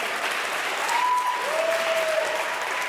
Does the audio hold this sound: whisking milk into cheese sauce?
no